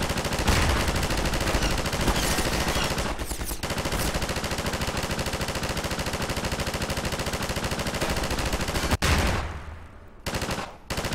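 Heavy, sustained automatic gunfire from a big gun in the video game Half-Life, loud and dense for about nine seconds, then breaking into a few short final bursts.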